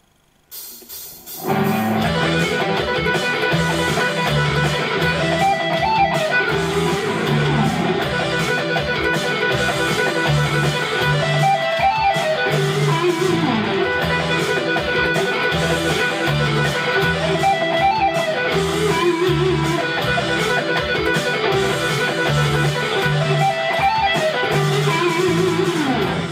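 A fast electric guitar pentatonic rock lick repeating over a full backing track with drums and bass, loud and steady throughout, no talking.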